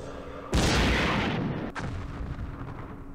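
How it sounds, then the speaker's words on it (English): A single loud tank cannon shot in Campaign Series Middle East, close and sudden, with a sharp blast that rolls into a fading rumble and a second crack soon after. "let's fire at them with these tanks"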